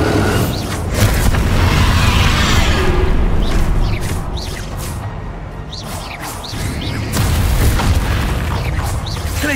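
A Bombarda spell explosion in the video game Hogwarts Legacy gives a loud, sustained booming roar that rumbles continuously with a brief dip midway, dense and close over background battle noise.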